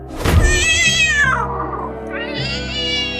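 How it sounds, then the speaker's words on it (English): A fluffy yellow cat gives a loud, drawn-out meow that falls in pitch, followed by a second rising meow, close and clear with a dull thunk at the start and no talking. "So when a cute, fluffy yellow cat trotted up to him with big, curious eyes, Chucky reacted"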